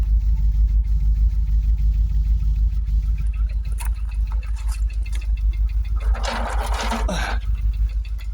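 A Jaguar XKR engine idles steadily after a fuel pump replacement, a deep, even low rumble running close and continuous, with faint clicks and a brief higher rattle partway through.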